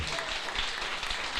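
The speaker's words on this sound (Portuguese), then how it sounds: "Você pode aplaudir o Senhor, irmão?" A church congregation applauds during a Portuguese-language worship service, producing a brief, continuous wash of clapping from many hands, fairly even and heard without talk.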